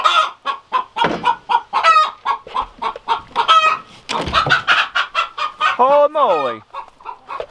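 Hens cluck busily and close by in a steady stream of short calls, with a brief human exclamation mixed in and a higher drawn-out squawk near the end.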